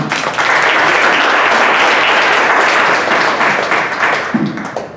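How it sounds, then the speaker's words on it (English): Loud, full round of applause from a town hall crowd in Colorado Springs, continuous and even for about five seconds before tapering slightly, with no speech over it. "round of applause for everyone"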